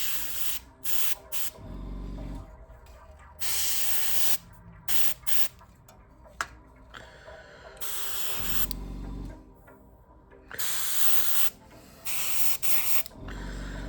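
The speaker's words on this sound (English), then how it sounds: "It's going, it's out, it's spraying, it's colouring." An airbrush or spray can sprays titanium gold paint onto a part of a 1978 Tamiya Lotus model kit, coming in close, loud hissing bursts of a second or two separated by short pauses.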